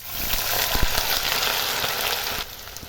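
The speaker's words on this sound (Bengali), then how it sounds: "তো এখানে তেল গরম হয়ে গেছে, পেঁয়াজটা দিয়ে দেবো।" Sliced onions hitting hot oil in a pan for Bengali-style duck curry, a loud, dense sizzle with a few crackling pops that eases slightly near the end.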